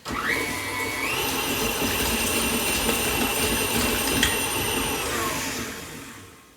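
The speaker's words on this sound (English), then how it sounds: "we'll just beat it for a few seconds just to get it incorporated" An electric mixer whirs steadily as it beats cookie dough with fleur de sel, a loud, close motor drone that rises at the start, holds, then winds down.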